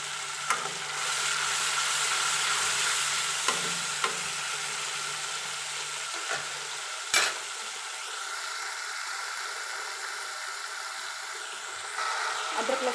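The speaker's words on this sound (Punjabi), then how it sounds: "ਅਦਰਕ ਲਸਣ ਦੀ ਪੇਸਟ ਨੂੰ ਆਪਾਂ ਅੱਛੀ ਤਰ੍ਹਾਂ ਭੁੰਨ ਲਾਂਗੇ।" Ginger garlic paste fries in a pan with a soft, steady sizzle, broken by a few light clinks of stirring against the metal.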